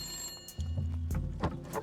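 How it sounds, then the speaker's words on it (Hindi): A telephone rings briefly in an office scene in a Hindi drama film, with a short burst of ringing that stands out over a low hum of room noise. "विधायक जी का फोन है।"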